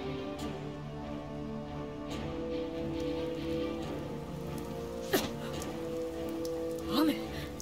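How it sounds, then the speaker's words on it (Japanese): Water spray thrown up by an impact falls like rain in the Naruto Shippuden: Ultimate Ninja Storm 4 video game, a steady soft hiss of droplets under faint background tones, with a couple of brief louder swishes. "違うよ、これはさっきの衝撃で生まれたしぶき"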